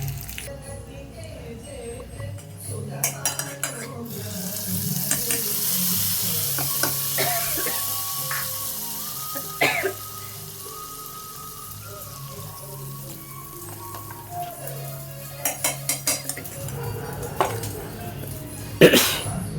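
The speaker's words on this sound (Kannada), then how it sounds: "ಚಟ್ನಿಗೆ ಒಂದು ಸ್ವಲ್ಪ ಒಗ್ಗರಣೆ ಹಾಕ್ಕೊಂಡ್ರೆ ಅದು ಚೆನ್ನಾಗಿರುತ್ತೆ, ಇನ್ನೂ ಟೇಸ್ಟ್ ಅಂದ್ಬಿಟ್ಟು ಒಗ್ಗರಣೆ ಹಾಕ್ಕೊತಾ ಇದ್ದೀನಿ" Oggarane tempering for chutney sizzles in a hot pan, a continuous crackling hiss broken by sharp clinks and scrapes of stirring. Bursts of louder spattering come and go.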